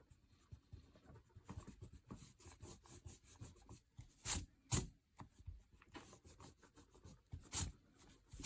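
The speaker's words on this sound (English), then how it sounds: "You can go back in, erase all these pencils," Eraser rubbing pencil marks off paper beneath an ink drawing of a baby Jersey cow, a steady close scrubbing with a few sharper, louder strokes; no talking.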